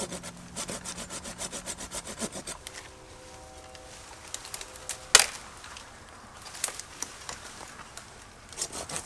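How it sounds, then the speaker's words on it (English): A SOG folding camp saw with a carbon steel blade cuts through a wood branch: rhythmic back-and-forth rasping strokes, then slower uneven pulls with a sharp crack and scattered scrapes, close and moderately loud. "just over 8 inches of wood saw blade, carbon steel is gonna be just perfect for this type of branch that's in the way."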